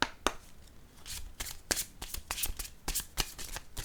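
Tarot cards are shuffled and drawn by hand: quick, close papery riffles and flicks come in irregular bursts at a low level, with no talking.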